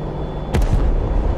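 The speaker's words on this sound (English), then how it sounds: "I heard a big explosion." A sharp blast booms in a DCS World combat flight game session, a single loud burst with a short echoing tail over a steady rumbling engine background, with no speech.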